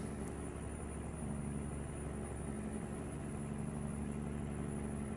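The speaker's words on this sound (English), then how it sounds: "I hear my RPMs are raising." In-cab engine drone of a truck in American Truck Simulator, a steady low hum that climbs slowly in pitch as the revs rise, with no talk.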